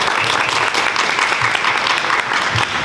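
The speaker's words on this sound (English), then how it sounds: "Can you give her one more round of applause, please?" An audience claps in sustained, dense applause after a guest speaker's talk to students and staff, loud and steady from start to finish.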